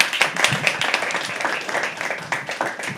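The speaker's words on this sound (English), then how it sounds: "Guys, give me a huge round of applause" An audience at a live poetry open mic claps in a dense, steady round of applause that lasts about three seconds, close and fairly loud.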